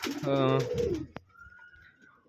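Pigeons in a home pigeon loft give a single low, throaty coo up close, followed by quieter background chirps and faint rustling.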